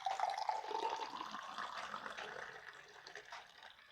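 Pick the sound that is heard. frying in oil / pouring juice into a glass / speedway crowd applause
pouring juice into a glass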